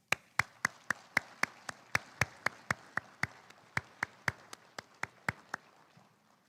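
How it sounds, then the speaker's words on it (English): Sparse, evenly spaced hand claps ring out one after another, about twenty sharp strikes over several seconds, as a small audience applauds students at a recognition ceremony. "we're going to give you a round of applause before you even get an award right now"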